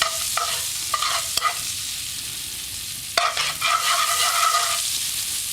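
Breadcrumbs frying in melted butter in a pan, a soft continuous sizzle with several scraping stirs and a couple of sharp knocks of a utensil on the pan.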